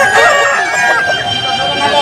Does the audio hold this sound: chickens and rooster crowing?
yes